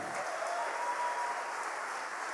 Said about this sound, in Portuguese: Você pode aplaudir Jesus, amém?